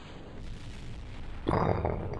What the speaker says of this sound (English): Instant explosion.